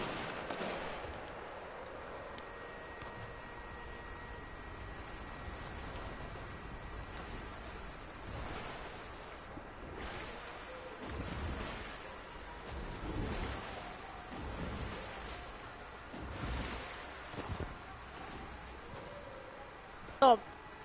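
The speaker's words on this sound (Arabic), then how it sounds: "في مطر برا والله في مطر وايد" Rain falls outside, a soft, steady patter and hiss that stays faint and distant under game sounds and occasional sharp bursts.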